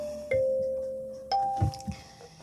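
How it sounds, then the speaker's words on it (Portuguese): Music box sound from a piano or music software, two clear sustained tones with faint mechanical clicking like winding gears, soft and close, with no talking. "um som de caixa de música próprio que tem no piano e também tem na minha DAW, com aquele sonzinho das engrenagens se movimentando, da corda"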